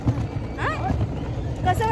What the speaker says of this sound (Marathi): आम्ही बसलोय घोडा गाडीमध्ये